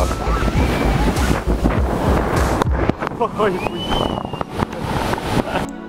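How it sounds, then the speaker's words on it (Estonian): Large, powerful sea waves break and surge loudly onto the shore, with a constant roar and heavy wind buffeting the microphone throughout. "Nüüd aga need lained on tõepoolest väga võimsad siin ja ka küllaltki ettearvamatud."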